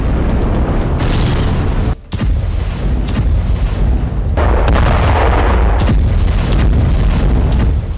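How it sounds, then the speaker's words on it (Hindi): Israeli airstrikes on Gaza: a dense, loud rumble of heavy booms and blasts rolling almost without pause, with one brief dip in the roar. "आसमान से गाजा पर हमले तेज हो गए हैं"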